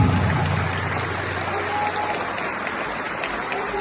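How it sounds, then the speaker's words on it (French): A crowd at a university gathering in Limonade applauds for several seconds, a thick, continuous patter of many hands that stays fairly even and slowly thins toward the end. "Je vous demande de l'applaudir très fortement, s'il vous plaît."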